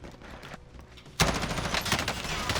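Automatic gunfire from Call of Duty Warzone bursts in abruptly after a quieter stretch, a loud, sustained rattle of rapid shots.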